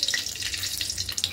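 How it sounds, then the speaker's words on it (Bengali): Whole garam masala, cinnamon, cardamom and cloves, sizzling in hot oil, a dense, continuous crackling hiss close up with no talk. "এবার এই তেলের মধ্যে গোটা গরম মশলা ফোড়ন দেব"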